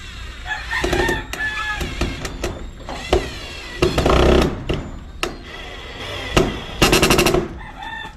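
Several chickens cluck and squawk close by while a rooster crows loudly, with bursts of overlapping bird calls and no talking.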